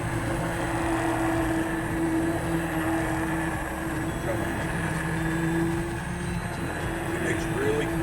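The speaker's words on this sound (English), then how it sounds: "This is our KitchenAid immersion blender." A KitchenAid immersion blender whirring through cooked tomatoes and peppers for sauce, a steady close motor hum with a constant pitch holding throughout, some voice under it.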